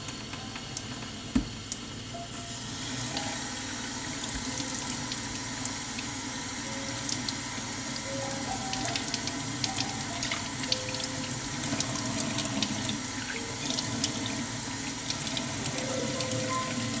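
Hands are rinsed under a running tap after scrubbing, a steady close stream of water splashing into a sink throughout, with brief squishy hand movements and no talking.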